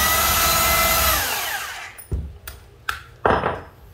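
A 220V rotary hammer drill whirs at speed and spins down, followed by a few sharp clunks and knocks as it is handled.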